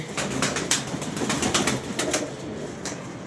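Pigeons sit together, cooing in a steady, dense murmur with a few flutters and soft calls rising over it, close by and with no talk.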